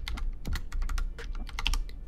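Code is typed on a computer keyboard while writing a SwiftUI radio button for iOS. Quick, irregular key clicks come close and fairly loud, one after another, with no talking.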